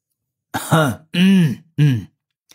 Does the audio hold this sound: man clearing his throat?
yes